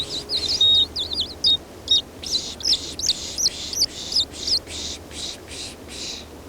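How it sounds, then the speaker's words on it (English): American tree sparrow singing by Beaverhill Lake in Alberta's aspen parkland: a string of high, sweet chirps and trills in bursts, clear over a low background rumble, with no talking. "Now that bird was singing a minute ago. I think it's the American tree sparrow."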